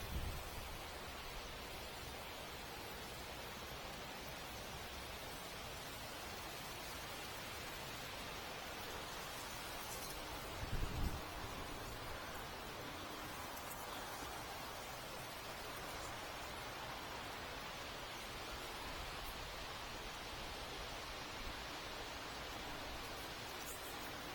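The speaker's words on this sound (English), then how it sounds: "Seems the wind's starting to kick up a bit." Wind blows outdoors beside a stream, a faint, steady hiss of rushing air and water with a brief thump partway through and no talking.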